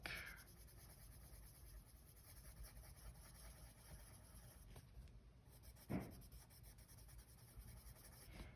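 Prismacolor colored pencil strokes scratch softly across paper in a quiet room, a faint steady rubbing with one brief louder tap partway through.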